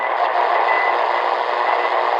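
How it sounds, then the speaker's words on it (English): Steady band of hissy AM radio noise on an XHDATA D-808 receiver, with faint, poorly defined Morse code tones running through it, continuous and fairly loud throughout. "you can still hear the Morse code there"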